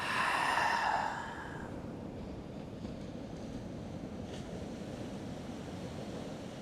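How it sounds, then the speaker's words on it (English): Ocean surf on a beach at sunrise, a steady broad wash of breaking waves with wind rumbling against the microphone, and a soft breathy exhale at the start. "Listen to that ocean, right?"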